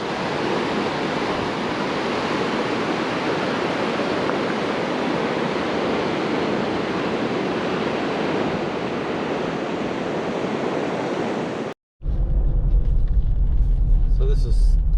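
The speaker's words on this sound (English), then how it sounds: "So this is Dilla Beach." Ocean surf at Dilla Beach near Fowlers Bay, Australia rolls in as a steady, loud broadband wash with heavy wind, then cuts abruptly to a closer, rumbling gust-laden stretch.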